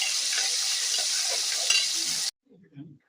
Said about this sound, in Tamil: வெங்காயம் நல்லா வதங்குது. அது கூட தக்காளி சேர்த்துக்கலாம்.